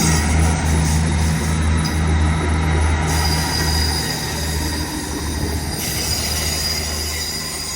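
Wheels of a departing Class 43 HST diesel train squeal steadily at a high pitch over a low rumbling engine drone at Bristol Temple Meads, loud and continuous.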